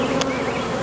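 A dense, steady buzz of honey bees comes up close from a very strong open hive during an inspection, with a brief sharper note at one point.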